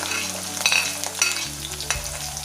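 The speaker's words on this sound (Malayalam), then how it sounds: "നമ്മുടെ വെളിച്ചെണ്ണ ഇപ്പോൾ നന്നായിട്ട് ചൂടായി വന്നിട്ടുണ്ട്. നമുക്കിതിലേക്ക് ഇഞ്ചി ചേർക്കാം, പച്ചമുളക് ചേർക്കാം, വെളുത്തുള്ളി, ചുവന്നുള്ളി" Ginger, green chili, garlic and shallots fry in hot coconut oil, giving a steady, close sizzle with light stirring clinks throughout.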